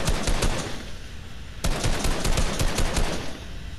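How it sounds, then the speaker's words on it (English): Gunfire from another player in the video game Fortnite crackles as rapid automatic bursts, loud and dense, with a brief gap before a second volley, and no talking. "Oh, that's her shooting?"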